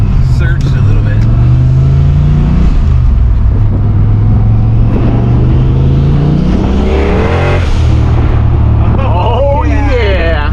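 Ford Foxbody Mustang engine running cold and surging, a loud, close rumble whose pitch rises and falls as the idle hunts, with a revving swell near the end and voices talking over it.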